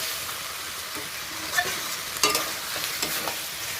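Chicken fries in a cooked-down spice masala with a steady sizzle, broken by several soft stirring scrapes and taps, close and fairly quiet.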